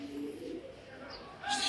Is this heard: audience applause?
no